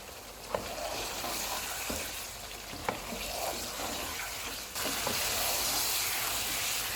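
Balti chicken fries over a medium flame in a pan, with a steady sizzle and the occasional stirring knock, close by and with no one talking.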